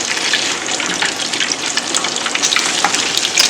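Korean corndogs fry in hot oil, a loud dense crackling bubble that rolls on steadily and close, with small pops spread across it as they are turned with tongs.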